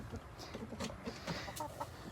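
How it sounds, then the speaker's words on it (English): Backyard hens, including Isa Brown and barred rock birds, cluck in soft, irregular bursts close by, with several overlapping calls and low background noise. "And this one right here is my nosy sow. That's Sow. She's a barred rock"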